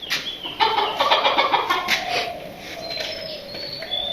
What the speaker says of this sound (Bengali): এখন মুরগি বেরিয়ে আসছে, খাবার খাবে।